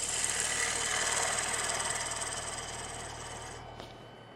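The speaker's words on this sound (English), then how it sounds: "Always spin your lathe before you turn it on" A woodturning lathe runs steadily with a broadband whir and low hum, fairly loud and close, no voices, easing slightly toward the end.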